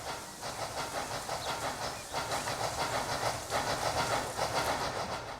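Steam locomotive in Transport Fever 2 chuffing and hissing steadily, using sound effects borrowed from Chris Sawyer's Locomotion, with a continuous rail rumble and rhythmic clickety-clack beneath a bright, airy hiss throughout.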